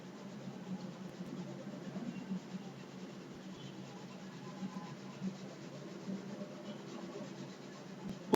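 Soft, continuous rubbing as writing is wiped off a board, a low papery scrubbing with faint irregular strokes, close and steady with no talking.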